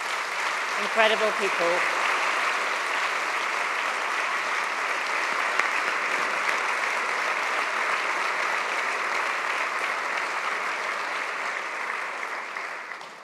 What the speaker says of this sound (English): could I ask for a round of applause for our incredible